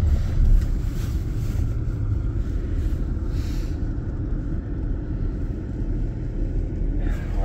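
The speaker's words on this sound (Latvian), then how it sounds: "Nu, pamēģinām BMW mazliet ātrāk" A BMW car speeding up on a skid training course gives a steady engine rumble heard from inside, mixed with road and wind noise, loud and continuous throughout.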